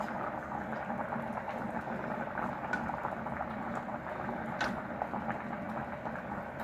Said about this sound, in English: I'm going to pour just a little bit of broth that I've made in here